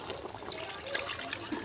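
Water trickles and pours steadily into a pot of homemade chicken curry for under two seconds, a close, even splashing with no one talking.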